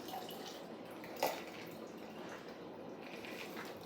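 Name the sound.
pouring lemonade cocktail into a glass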